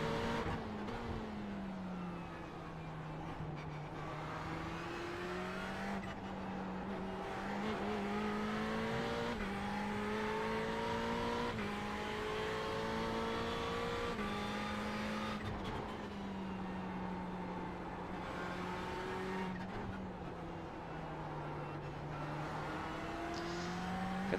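Ferrari 488 GT3 race car engine in a racing video game at the Nürburgring, lugging at low revs with a deep, steady drone that rises and falls through gear changes and throttle, continuous with no talk.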